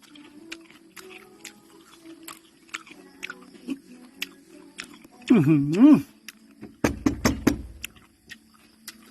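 Someone chewing crunchy fried June beetles cooked in coconut cream, with close, wet crunching and mouth sounds, plus a loud appreciative hum midway.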